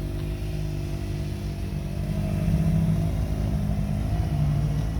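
A 2021 Can-Am Maverick X3 X RS Turbo RR side-by-side drives along a road, its engine a steady low rumble with slight surges in pitch, moderately close and without talk.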